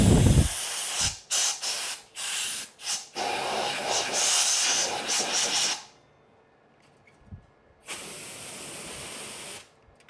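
Compressed air blasts blowing out vacuum system parts during final assembly, a series of short loud hissing bursts followed by a longer sustained spray, then a quiet gap and another long hiss near the end.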